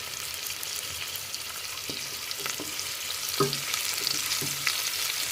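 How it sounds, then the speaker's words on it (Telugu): Onions with freshly pounded ginger and garlic fry steadily in a pan for bitter gourd curry, a continuous close sizzle with a few soft stirring knocks and scrapes. "అల్లం పచ్చి వాసన పోయే వరకు దీన్ని ఇలా ఫ్రై చేసుకోవాలి."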